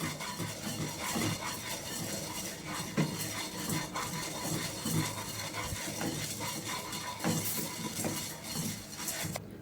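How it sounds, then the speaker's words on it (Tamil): Split chickpeas (chana dal) dry-roast in a pan for chilli powder, with soft continuous scraping and stirring, light clinks of a utensil against the pan and occasional louder knocks, all fairly quiet with no voices. "கடலைப்பருப்பு வறுபட்டுருச்சு, எடுத்துக்கிட்டிக்கலாம்"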